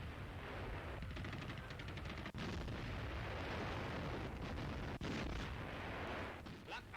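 Battlefield gunfire from a 1942 German wartime newsreel, dense rattling bursts and booming impacts of machine guns and artillery, continuous and heavy with sharp cracks throughout, old recording quality.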